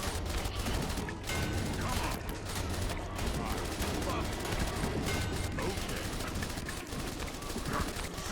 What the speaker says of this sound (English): Just let these turrets kill all of them.